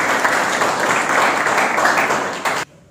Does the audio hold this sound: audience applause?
yes